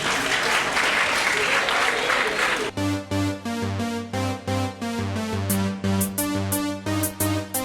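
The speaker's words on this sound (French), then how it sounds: "Sous vos applaudissements." Audience at a school festival applauds a lycée d'État troupe: a dense, loud wash of clapping for nearly three seconds, then cut off as rhythmic music with steady beats begins.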